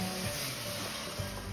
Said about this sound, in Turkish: Yağımız kızdıktan sonra doğradığımız soğanlarımızı içine alıyoruz ve hafif pembeleşene kadar kavuruyoruz